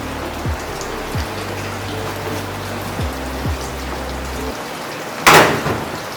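Steady rain falls outside as a soft, continuous patter with scattered drops, joined near the end by a brief louder splash or rush.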